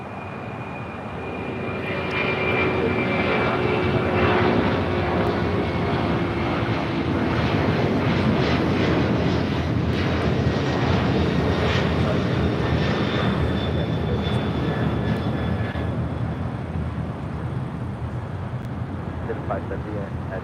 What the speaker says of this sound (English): It's a 767-300 freighter rolling on 25 right.